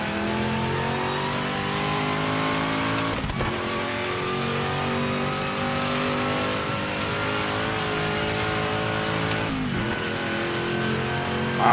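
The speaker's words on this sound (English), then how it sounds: "Listening to that engine when you get off the brakes" A racing car engine in a video game drones at high, steady revs, with brief dips as gears shift, loud and close with no talking.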